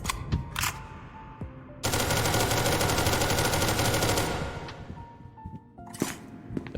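An AK rifle in the game SCP: Secret Laboratory fires a long, loud sustained automatic burst of about two seconds. Scattered single shots and metallic clicks come before and after the burst.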